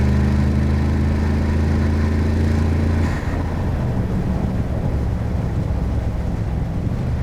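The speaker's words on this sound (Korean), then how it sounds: "뻥 뚫렸는데 한번 배기음 한번 들어볼까요" Exhaust of a 2022 Mercedes-AMG G63 with its 4-litre twin-turbo engine in sport mode, a deep steady rumble that shifts to a rougher, wind-buffeted roar partway through while driving.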